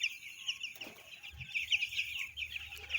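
Clucking from a flock of 16-day-old broiler chickens let outdoors on a farm, a steady chorus of overlapping calls and chirps close by, with a brief wing flutter partway through.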